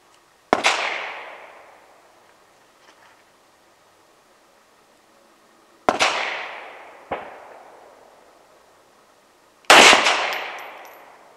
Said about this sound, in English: this is our second shot with the Fiocchi 95 grain full metal jacket